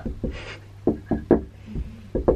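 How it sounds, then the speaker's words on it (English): Several sharp knocks on a door, close and fairly loud, in irregular groups of two and three with short pauses between them. "Someone knocking on the door."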